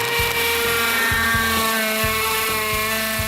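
A power drill bores holes into stone pool coping, giving a loud, steady high whine with a low rhythmic chatter pulsing about every half second.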